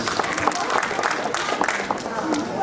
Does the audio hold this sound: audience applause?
yes